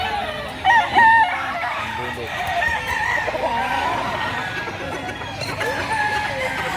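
A rooster about two years old crows amid the busy chatter and bustle of a poultry market in Lipa City, Batangas, with other fowl clucking in the background.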